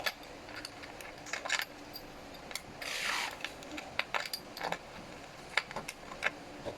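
Bolts being tightened while assembling a black mesh bar chair, with scattered close metallic clicks and ratcheting ticks, a brief rasping scrape in the middle, and no voices.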